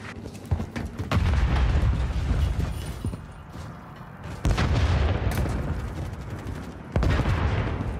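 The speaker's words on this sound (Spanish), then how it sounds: "¡Lanzando granada!" A grenade goes off in Call of Duty amid gunfire, a loud close blast in the middle standing out among sharp shots and other booms, the battle noise dense and continuous throughout.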